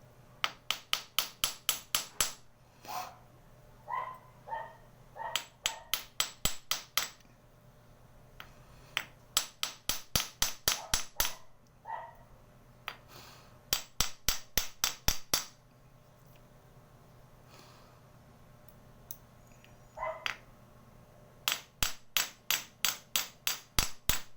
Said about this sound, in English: put it on the anvil right here. Alright, and just do some tapping.